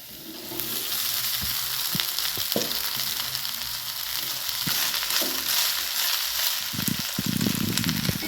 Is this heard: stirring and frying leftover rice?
yes